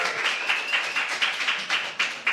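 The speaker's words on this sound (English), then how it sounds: "So maybe a round of applause, please." A live audience in Stuttgart, gathered for a company's 30th birthday celebration, claps in short, regular pulses, a brief, fairly close round of applause with no talking over it.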